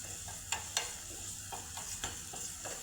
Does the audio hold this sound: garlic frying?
yes